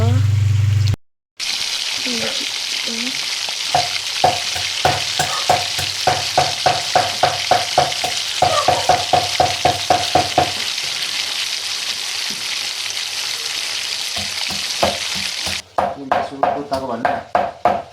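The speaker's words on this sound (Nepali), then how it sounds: "अब चाहिँ चिकन चाहिँ पाक्दैछ" Steady sizzling of food frying in a pan, with repeated stirring and scraping clicks and some background voices through most of it.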